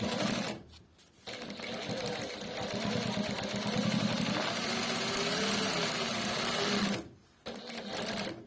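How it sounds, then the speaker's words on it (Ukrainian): A JUKI 8300N industrial sewing machine with a servo motor stitches in a steady close whir, starting after a short pause and stopping briefly near the end before resuming. "витягуємо нижню нитку, туди відводимо і починаємо шити"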